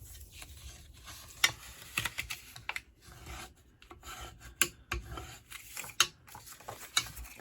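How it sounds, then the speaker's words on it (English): Paper being burnished with a tool while making a Halloween treat bag, steady raspy rubbing strokes in quick irregular bursts, close and fairly loud with no talking. "And it's time to do some burnishing."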